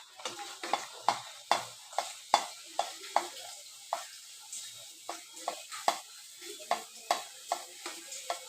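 Pea-stuffed kochuri puff in hot oil with a bubbling sizzle, and sharp scraping stirs recur at a steady rhythm. The stirring sounds close and the frying stays soft beneath it.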